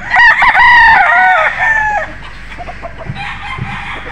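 Golden boy sweater gamecock rooster crowing one loud, close cock-a-doodle-doo that lasts about two seconds, followed by quieter clucks and soft scratching.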